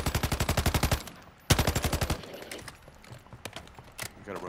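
Rapid bursts of automatic gunfire in Call of Duty Resurgence on the Ashika map, two loud sustained volleys of fast even shots followed by scattered single cracks and distant pops.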